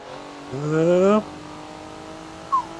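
A race car in Forza on the Rio track revs upward in one short rising burst lasting about half a second, then drops back to a low steady hum.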